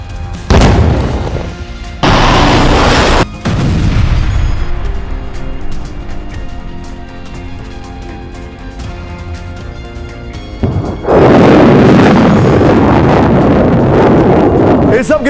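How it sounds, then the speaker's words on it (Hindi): Explosions from a Houthi drone and ballistic missile attack in the Red Sea boom in several loud, rumbling bursts, with windy, crackling noise between them and a heavy roaring blast near the end. "हूती ने ईरानी ड्रोन से रेड सी में किया हमला, यमन से रेड सी में दागे बैलिस्टिक मिसाइल"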